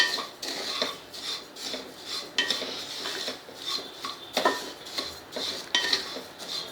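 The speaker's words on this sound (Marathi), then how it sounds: "असे आपण छान मस्त भाजून घेऊया" Cumin seeds dry-roast in a pan while a spoon stirs them, producing rhythmic scraping and light rattling strokes repeated every half second or so, close and alone.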